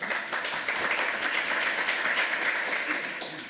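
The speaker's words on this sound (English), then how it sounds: "Applaud if you like it." An audience at a lightning talks session bursts into sustained applause, a dense continuous patter of many hands clapping, fairly loud and steady throughout.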